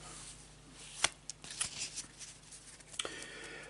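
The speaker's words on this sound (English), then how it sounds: "We'll just cut the deck for you there, Mark" A deck of tarot cards is cut and handled, giving close, soft papery slaps and a brief riffling shuffle against a quiet hiss.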